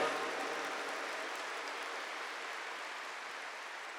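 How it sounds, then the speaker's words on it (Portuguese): A church congregation keeps clapping during a scripture-sharing service, a continuous even roar of many hands heard from a distance that tapers slightly in loudness, without any talk. "Vamos aplaudir melhor a palavra de Deus."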